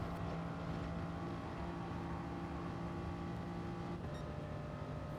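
A race car in Gran Turismo Sport drones at full throttle, a steady, loud engine tone holding a constant pitch, with a slight shift near the end and no talk over it.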